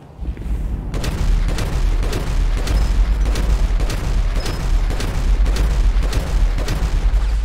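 Rapid gunfire and heavy booming blasts in Grand Theft Auto V crackle loudly and continuously, with one deep sticky bomb explosion thudding among the shots.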